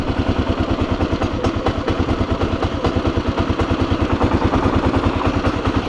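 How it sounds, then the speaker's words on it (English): A motorcycle engine chugs with a fast, even low pulse as the clutch is slowly let out without throttle during a beginner riding lesson; the close engine note holds steady throughout with no voices. "without gassing it, just slowly let the clutch out."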